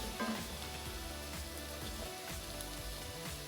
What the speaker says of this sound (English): Keep stirring, keep cooking till they're really softening up.